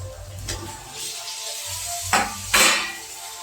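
Boiled potatoes and kohlrabi drop into a pan of spices for a vegetarian curry, giving a low sizzle with a couple of sharp scraping clatters near the end.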